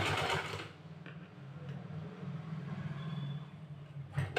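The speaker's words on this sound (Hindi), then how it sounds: "धीरे धीरे चलते जाना है और आपको सिलाई लगाते जाना है।" A sewing machine stitches a cow-style sleeve, giving a steady low mechanical whir that runs almost without a break, with a brief louder burst at the start and a few faint clicks along the way.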